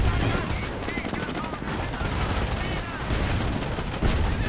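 Continuous gunfire and small-arms bursts fill a Company of Heroes battle, dense and steady throughout with a heavy low rumble and no clear pauses.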